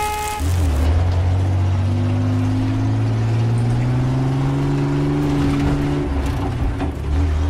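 A car driven in the online shooter Battlefield: a loud, close engine drone steadily climbs in pitch as it accelerates, filling the whole stretch without talk.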